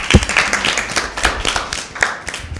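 A small group claps for a team answering correctly at a Lent season Bible quiz, with scattered, uneven hand claps over a few seconds.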